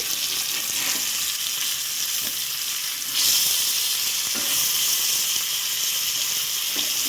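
Rava-coated fish fries on an earthen pan, giving a loud, steady, close sizzling hiss that holds evenly throughout, with no voices.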